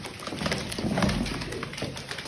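Soft cooing from male Turkish tumbler pigeons nearby, a low murmuring call over faint rustling and light taps in an enclosed loft.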